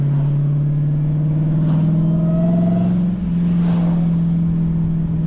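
A supercharged Hellcat Redeye engine holds a loud, close, steady drone with a rising supercharger whine layered over it, swelling briefly twice without any speech.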